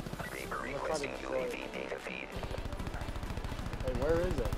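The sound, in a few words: sentry gun firing in video game Black Ops 4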